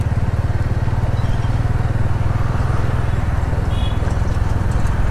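A motorcycle used as a bike taxi runs at steady speed during a ride, its engine drone a continuous low throb with road and wind noise throughout.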